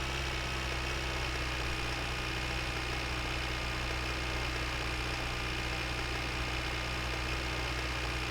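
A tractor engine runs in the winter car-building game My Winter Car, a steady, unbroken low mechanical drone with no change in pace and no talking.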